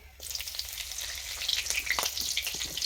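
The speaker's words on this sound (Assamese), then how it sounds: "আৰু পিঁয়াজ দিছোঁ এতিয়া।" Green chili and onion frying in a hot pan, a crackling sizzle that swells after a quiet start, with spitting pops and light stirring.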